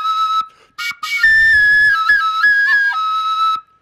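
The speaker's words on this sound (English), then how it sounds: "That's how the clay flutes sounded, and it still sounds today in Mexico." Aztec clay flute blown hard, giving a shrill, overtone-rich whistling tone that bends and wavers in pitch, with a couple of short bursts before a sustained breathy phrase, loud and close.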